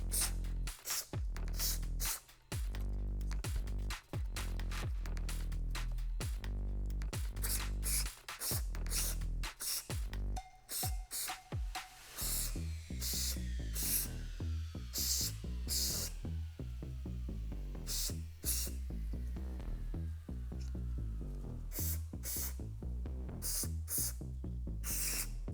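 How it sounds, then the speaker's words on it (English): Repeated hissing bursts of aerosol gun cleaner sprayed on a Taurus Raging Bull .454 Casull revolver, some short and some sustained, with rattling and clicks over a low steady hum. "So let's spray the dirt out."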